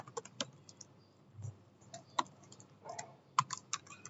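Typing on a computer keyboard, a quiet, close series of irregular key clicks in short bursts with brief pauses between them, alone without talk.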